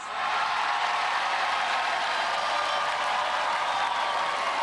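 Studio audience at a 1997 UK Gladiators heat applauding a contestant, a dense, even roar of clapping held at constant loudness throughout, no voices on top.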